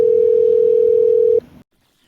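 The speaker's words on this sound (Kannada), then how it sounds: "ಫೋನ್ ಬಂದದ್ ಫೋನ್ ಎತ್ತು ಬಾಡ್ಯಾ" A phone gives a single loud, steady electronic tone for an incoming call that holds for about a second and a half, then cuts off abruptly into near silence.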